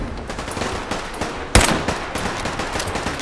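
A single sharp gunshot cracks loudly mid-clip in Fallout 4, a headshot fired during a slow firefight, standing out against a steady bed of game ambience and distant combat noise.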